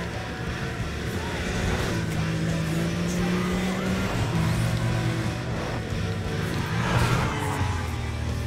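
A BMW race car in Need for Speed Undercover on PS3 drones steadily throughout, its engine note holding and shifting pitch with a constant close roar and faint tire noise.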